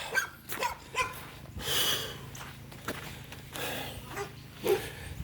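Several dogs bark and yip in irregular overlapping bursts at mid distance outdoors after Hurricane Fred, with snorting and whimpering mixed in over a noisy outdoor background and no clear talking.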